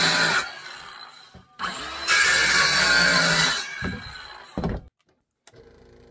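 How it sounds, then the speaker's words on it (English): A scroll saw cutting quarter-inch MDF, with loud sustained buzzing runs that stop and restart, broken by short pauses and a near-silent gap toward the end. "Cut on the inside of the lines with your scroll saw"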